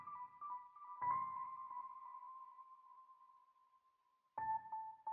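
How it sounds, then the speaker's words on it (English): Piano and Stage 73 counter melody downsampled to 5K, giving a muffled, watery underwater effect. Soft sustained notes sound quiet and washed out, with two brief louder note attacks. "I just exported it and downsampled it to 5K, and it just give that nice underwater effect again"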